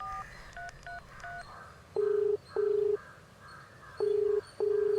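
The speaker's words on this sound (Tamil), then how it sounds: "ஃபோன் பண்ணி பார்க்குறேன்." Telephone keypad tones sound as a number is dialed in a Tamil film scene: a quick run of short, faint beeps, then four longer, louder steady tones in pairs, with no voices.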